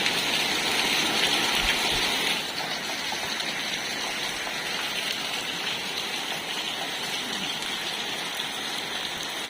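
Steady heavy rain falls through the night outside a house, a dense continuous hiss with drops splashing on surfaces, loud and unbroken with a slight drop in intensity after a couple of seconds.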